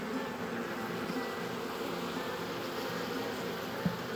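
Honeybees buzz continuously inside a beehive that is raising queen cells, a dense steady drone heard close up.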